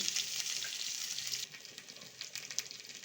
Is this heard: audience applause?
no